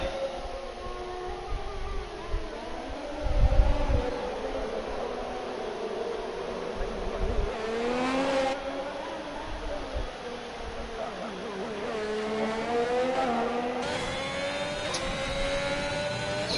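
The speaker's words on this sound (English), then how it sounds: "get on the throttle and carry some good speed up this first DTR straight" A race car accelerates down the first straight at the Mexico circuit in a sim racing game, its engine note climbing steadily in pitch through the gears, with steady road and wind noise underneath.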